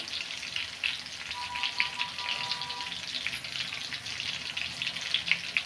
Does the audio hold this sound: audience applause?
no